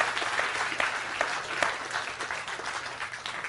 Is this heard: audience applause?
yes